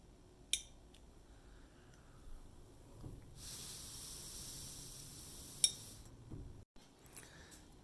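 Bimetallic plate in an electric kettle switch being heated, heard as a sharp snap near the start and another near the end. Between them comes a soft hissing stretch, and the whole is quiet and close.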